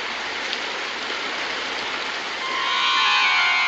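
Rain falls outside in a dense, even hiss that holds steady and swells slightly near the end, where a thin high whine rises over it.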